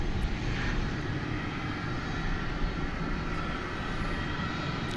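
American Airlines jet rolling for takeoff on runway 18 left at DFW, a steady broad engine roar heard at a distance that holds level throughout without talk.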